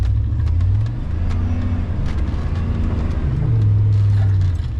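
A small truck with an open differential on a wet skid pad in the rain, engine droning and revving in low surges as one tire spins, close and steady throughout.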